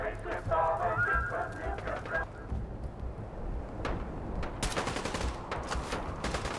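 Gunfire in the Fallout 4 Nuka World game: a tonal, honking sound opens, then a cluster of sharp, loud shot bursts breaks out over a busy background.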